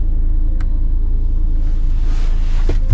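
A car on the move, a steady low engine and road rumble close inside the cabin, with faint wind noise and a couple of small knocks.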